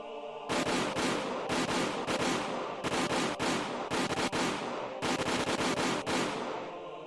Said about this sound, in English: The sound of the gunshots echoed in the silence.